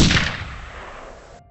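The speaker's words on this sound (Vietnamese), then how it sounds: "có người rút súng ra bắn chỉ thiên" A single gunshot fired into the air by police, a loud sharp crack at the start that decays into a long rolling reverberant tail, with no voices.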